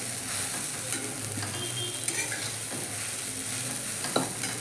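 Soaked sago dry-roasts in a pan with a steady, close hiss and faint scraping from a spatula moving through it, fairly even and continuous.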